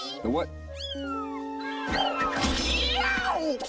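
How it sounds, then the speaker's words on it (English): A kitten meows several times, high and insistent, while people talk briefly nearby. "Don't forget the baby kitty."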